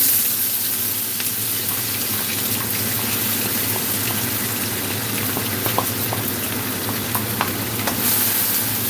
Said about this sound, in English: And we're just going to saute them for a little bit